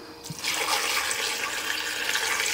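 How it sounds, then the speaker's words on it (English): Water pours into a pot over smoked cured ham hocks, bay leaves and crushed chili peppers, a steady rushing splash that starts after a brief moment and continues close and even to the end. "Gonna come in with some water to cover."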